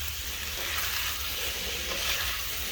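Celery sizzles in a pan for fried rice on an electric stove, a steady, close, loud hiss of frying with no other sounds.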